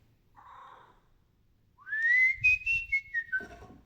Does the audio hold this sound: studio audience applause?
no